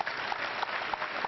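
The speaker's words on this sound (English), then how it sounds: "Please clap for this man." A church congregation claps at a live Sunday service at Emmanuel TV, a brief, fairly soft burst of continuous applause heard from a distance.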